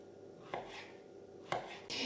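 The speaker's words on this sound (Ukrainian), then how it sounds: "нарізаю от такими брусочками огурчик" Three crisp knife strokes cutting cucumber into sticks on a cutting board, spaced about a second apart, close and fairly quiet with a faint hum between them.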